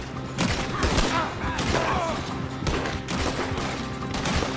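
Rapid, overlapping gunfire crackles throughout a Red Dead Redemption 2 shootout, with close, dense shots and a steady roar of firing, while voices call out under the barrage.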